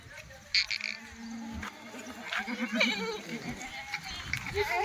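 Several goats bleat in wavering, nasal cries, one after another at moderate distance, from a herd of about sixty-six, with background voices and farm noise.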